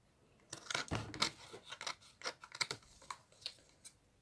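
Close scissors snip around the edge of paper when cutting out a stamp or die piece, in a quick irregular series of crisp cuts and rustles with no voice.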